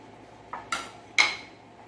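A spatula clinks and scrapes against a big bowl while butter is worked in among flour, giving three short, bright metallic taps over a quiet background.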